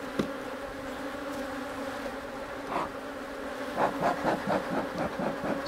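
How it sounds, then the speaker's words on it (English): Many honey bees swarm in the air around an open hive during an inspection of hive #8, making a dense, steady buzz that swells slightly, close by and with no voices. "I haven't got stung yet, but it's likely I will with this many bees in the air around me"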